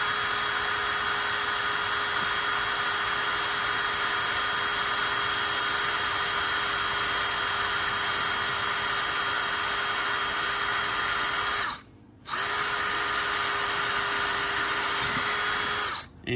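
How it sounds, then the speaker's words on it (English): A drill bores a 1/8 inch hole through a motorcycle swing arm, a steady high-pitched whine that runs continuously and close up, stopping briefly near the end before starting again. "then you can go ahead and start drilling the other side"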